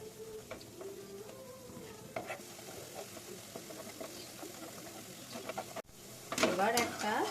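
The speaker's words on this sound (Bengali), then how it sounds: "আস্তে আস্তে খুঁটির সাহায্যে এপিট ওপিট করে একটু লাল লাল করে ভেজে নিতে হবে" Dahi vada fritters frying in hot oil while being turned with a spatula, a soft steady sizzle with occasional scraping and clinks, building to a louder, busier bubbling and stirring toward the end.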